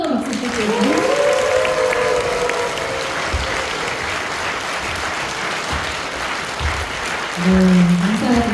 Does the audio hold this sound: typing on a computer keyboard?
no